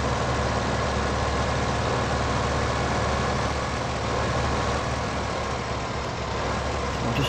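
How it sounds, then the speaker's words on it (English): A heavily loaded tractor in Farming Simulator 15 on PS4 labours up a hill, its engine giving a constant, loud, low droning rumble that holds steady throughout with no talking. "this tractor struggles up the hill here"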